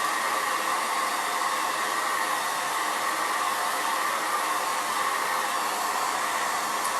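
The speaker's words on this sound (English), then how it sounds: "Let me blow dry." A hair dryer blows steadily on a painted wood board, a close, loud, unbroken whooshing roar that holds the same level throughout with no talk.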